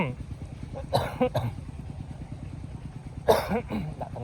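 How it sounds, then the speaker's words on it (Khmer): A water pump engine chugs with a fast, steady putter close by, while a voice cuts in over it twice. "សំលេងម៉ាស៊ីនគេបូមទឹក"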